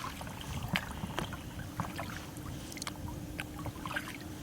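A small boat is paddled out toward a moored sailboat on a calm evening with dying wind. Soft, irregular paddle splashes and water trickles sound close by over a low background wash, with no talking.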